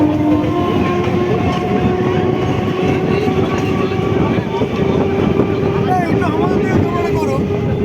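A crowded local train runs along the rails at speed, a loud continuous rumble and rattle of wagons with a steady droning tone, with voices in the carriage mixed into the din.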